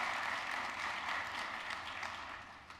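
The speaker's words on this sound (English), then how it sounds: "let's give them a round of applause for the work that they're doing" An audience at an honors college induction and recognition ceremony giving a round of applause, soft, dense clapping from many hands, even and continuous, heard from a little distance and fading slightly near the end.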